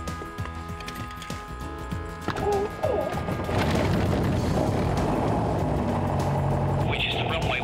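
A small airplane engine starts near Attlebridge, first as low clattering and thumps, then builds into a loud, steady droning roar that fills the cabin with a whine near the end; voices speak briefly.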